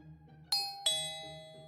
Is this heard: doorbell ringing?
yes